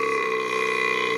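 A steady, drawn-out burp after drinking Italian Mastri Birrai Umbri beer, lasting just over a second at even loudness with a low droning tone throughout.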